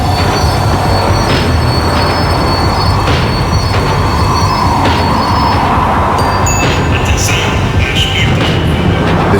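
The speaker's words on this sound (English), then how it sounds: "The tram was slowing down, and I'd only just gotten on board." A tram slowing down in the Max Payne 3 video game: continuous loud rumble of rolling wheels with metallic squeals and rattling clatter, steady throughout with no talk.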